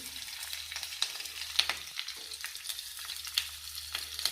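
Garlic and chilies dropped into hot oil with curry leaves, sizzling and crackling steadily with sharp pops close by, no voices over the frying.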